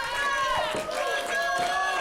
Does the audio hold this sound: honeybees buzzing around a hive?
no